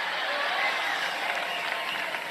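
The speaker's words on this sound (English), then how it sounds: "They're cheering that the U.S. women's soccer team lost" A rally crowd for Trump cheers and claps in a continuous roar with murmuring voices mixed in, steady and fairly distant.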